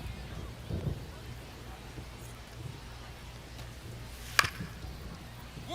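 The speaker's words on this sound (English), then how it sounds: "It's just raining." Steady, soft rain hisses over a baseball stadium in MLB The Show 25 during a White Sox spring training game. It is a low, even wash with one sharp knock, and a commentator talks over it.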